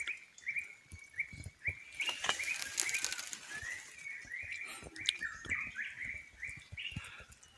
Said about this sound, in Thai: นกแซวแซวเลยทั้ง มันต้องมี ผลไม้หรือว่าอีหยังให้มันกิน